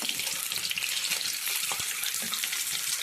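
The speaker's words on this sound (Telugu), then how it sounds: "కొంచెం ఇట్లా ఫ్రై అవ్వాలి" Boiled eggs frying in oil in a pan for a simple egg curry, making a steady, close, watery sizzle and crackle throughout with no talking.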